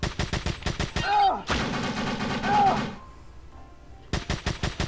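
Special Forces enemies open fire in the video game Dead Rising, with rapid machine-gun bursts cracking close by in clusters, broken by a long sustained burst and short pauses.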